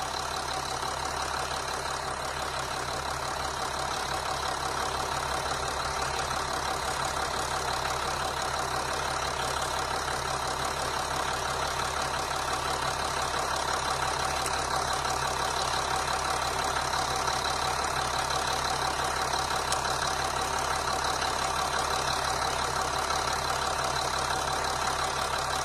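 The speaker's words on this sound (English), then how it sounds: "And engine doesn't seem to go rough or try to stall" A 2012 Nissan Navara V6 diesel engine idles steadily throughout, running smoothly without roughness or stalling, a constant mechanical hum with no talk over it.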